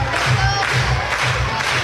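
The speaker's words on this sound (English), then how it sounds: "Crowd claps in unison." At a college softball stadium, the crowd claps together in a steady rhythmic beat, with a mix of voices and background noise under the pulses.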